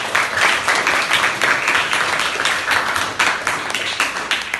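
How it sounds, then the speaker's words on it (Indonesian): A school class applauds together, dense steady clapping from many hands filling the room for several seconds, loud and close with no talk over it. "Tepuk tangan dulu untuk kita semua."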